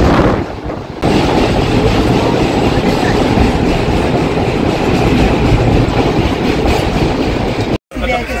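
Steady rumble and rattle inside an LHB sleeper coach of the Dadar–Kamakhya express running from Ujjain toward NJP, loud and continuous with faint clickety-clack, briefly cutting out near the end.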